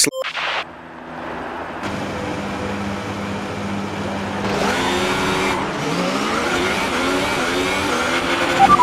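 An F1 race car in the F1 2018 video game accelerates hard, its high-pitched engine rising through gear changes with rising whines and a brief tire squeal, loud and close without talk.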